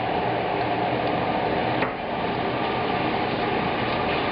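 XO sauce with garlic and soy sauce bubbles and sizzles gently in a pan over lowered heat, a steady soft crackle with no talking.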